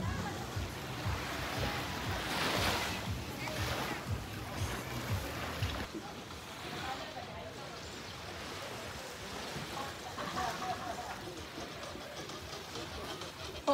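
Sea waves at Alona beach roll in as a steady broad wash of surf, louder at first and then settling into a continuous rumble, with people chatting nearby.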